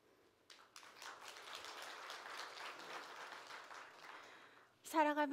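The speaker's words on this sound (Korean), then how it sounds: "큰 박수 역시 부탁드리겠습니다." Audience applause fills a forum hall for several seconds, a dense steady patter of many hands clapping at moderate level, before a voice begins speaking near the end.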